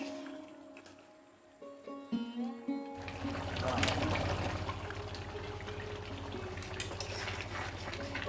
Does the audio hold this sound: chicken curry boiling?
yes